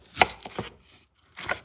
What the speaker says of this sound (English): And then I like to cut them 1/3 horizontal.